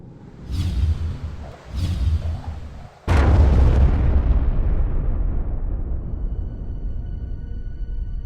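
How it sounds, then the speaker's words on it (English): A massive meteorite strikes the Vredefort Dome: two whooshing rushes pass before a huge, loud explosion booms out and rolls into a long, sustained rumble that slowly fades. "this massive object struck Vredefort Dome and destroyed all forms of life."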